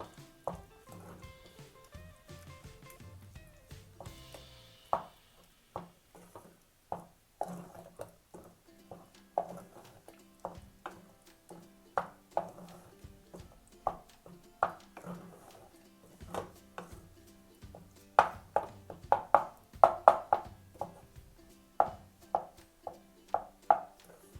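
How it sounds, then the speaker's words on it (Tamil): Mashed elephant foot yam mixed with water in a bowl, with a steady run of soft taps and squelches from the spoon, close and fairly quiet. "எல்லாம் நல்லா ஒன்றா கலக்கிற வரைக்கும் இதை நல்லா மிக்ஸ் பண்ணி வச்சிடலாம்"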